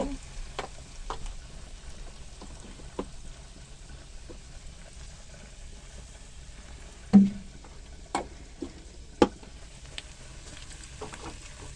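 Onions browning in a pan for chicken curry give a low, steady frying crackle, broken by a few sharp utensil knocks and scrapes of stirring.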